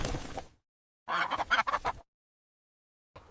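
A duck quacks in two loud, close bursts of raspy calls, with short silences between, in a playful race scene beside a shallow stream among chickens.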